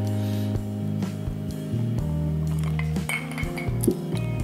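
Fridge ice cubes clink and rattle against a glass of Jim Beam Black 7 Year bourbon, a quick run of close, bright taps and chinks spread over a few seconds with no talking.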